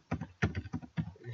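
Typing on a computer keyboard while entering a document title in Microsoft Word 2013, heard as four or five quick bursts of clicking keystrokes at moderate volume with no talking.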